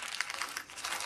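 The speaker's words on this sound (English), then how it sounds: "you didn't have to hear this crinkling" A plastic bag of sequins crinkled by hand, giving close, bright rustling and crackling in quick irregular bursts for about a second, with no voices.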